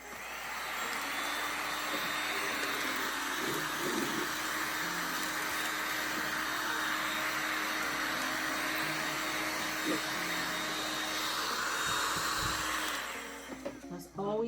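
A heat gun blows steadily and loudly for about thirteen seconds while shrink wrap is shrunk around a sublimation tumbler. The hiss is broad and unbroken, then cuts off near the end.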